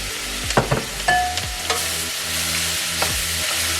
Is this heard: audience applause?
no